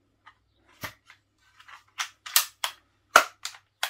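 Umarex Strike Point 5.5mm single-shot PCP air pistol firing pellets, heard as a series of sharp, dry cracks and snaps, several in quick succession with small clicks between, close and clear in a quiet room.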